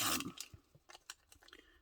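Old tracing paper, coffee-dyed, crunching as it is handled: a loud rustle opens, then a run of short, close crisp crackles follows, with no talk over it.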